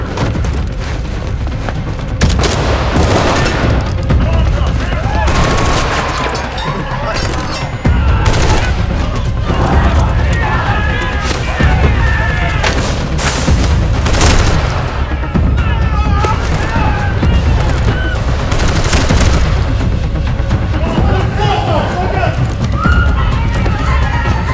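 Gunfire from an armed militia in a staged phone advert, with booming shots and bursts over loud, busy action noise and dramatic sound, along with shouting voices and running.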